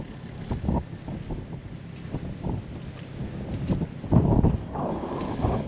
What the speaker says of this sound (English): I don't know if you guys can hear me because the wind's blowing